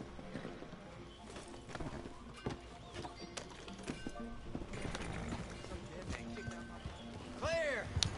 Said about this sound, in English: Horsey's just being a horse.